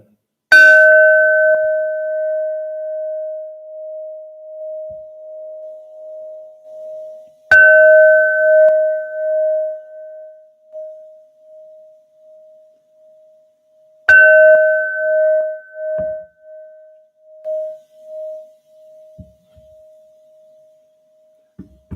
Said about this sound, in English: Let's ding the bell.